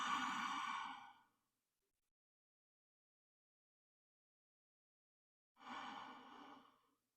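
Two long, deep breaths taken while resting in child's pose during a yoga core session, each a soft, airy exhale lasting over a second, separated by a long stretch of silence.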